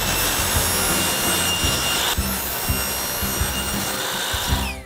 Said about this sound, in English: we can go over to the saw and just trim our ends